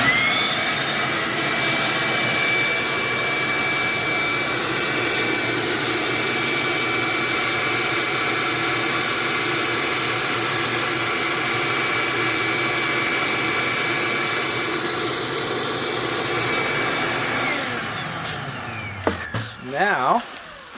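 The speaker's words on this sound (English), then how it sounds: "we hook up a shop vac to this to provide the suction" A shop vac roars steadily, providing suction for a seed-separating machine, a loud, constant whine that runs for most of the stretch before winding down with a falling pitch near the end, followed by a few clunks.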